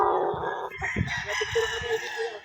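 A young gamefowl stag of the pure Sweater line at a game farm crows once, a drawn-out cock-a-doodle-doo that rises and wavers, fairly close, with faint farmyard clucking around it.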